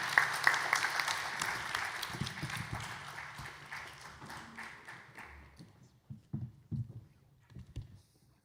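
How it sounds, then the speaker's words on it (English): An audience claps for a panel at the close of a talk, a burst of applause that thins and fades over several seconds, leaving a few scattered claps and knocks. "A round of applause for my amazing panel."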